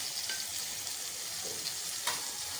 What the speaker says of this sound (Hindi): अब हम ना इसे ना टमाटरों को ना 5 मिनट तक भूनते हैं अच्छी तरह।